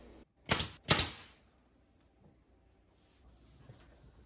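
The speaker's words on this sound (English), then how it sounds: "and I nail it into place." Two sharp, loud hammer blows drive nails through a birch plywood backing piece inside a pantry, about half a second apart, followed by near silence and a faint rustle.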